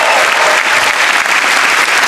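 Loud, dense audience applause on a grand final night, many hands clapping at once in a continuous, close roar that holds steady throughout.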